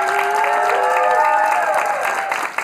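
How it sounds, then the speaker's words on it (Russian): Studio audience applauding on a Russian comedy joke show, a dense, steady wash of clapping and cheering that holds strong for nearly three seconds before thinning slightly at the end. "Ну, а сейчас давайте поаплодируем самому главному."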